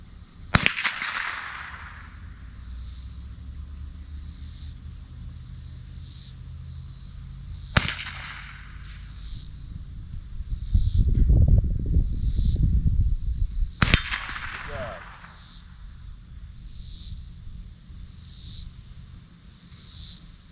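Three sharp rifle shots from a Marlin Model 60 fired outdoors at targets on a pallet, spaced several seconds apart, each cracking loudly with a short echo over steady insect chirring and a brief low rumble between.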